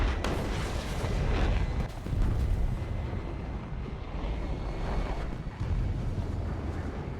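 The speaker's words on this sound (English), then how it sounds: "I like the way the engines sound in this plane." A jet plane's engines whine and roar in the War Thunder video game, a steady broadband rush that swells and dips slightly, continuous and fairly loud with no talk.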